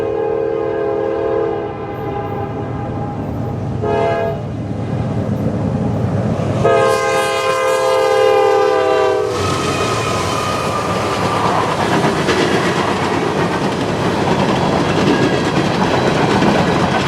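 A heavy coal freight train rumbles past close by near Harrisburg, its horn sounding in long blasts amid steady rolling clatter and grinding of wagons.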